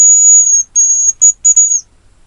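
Hazel grouse decoy whistle blown in a forest hut beside a stream: a thin, very high steady whistle held for about half a second, then three to four shorter high piping notes, the last one drooping slightly, clear and close with no talk.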